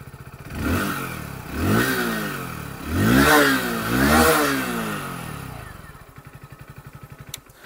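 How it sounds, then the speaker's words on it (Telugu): A Hero Splendor Plus XTEC 2.0 motorcycle engine starts and revs up close, with several rising-and-falling throttle blips before it settles into a steady idle. "ఒకసారి ఆన్ చేస్తాను, ఇంజిన్ సౌండ్ అయితే వినండి."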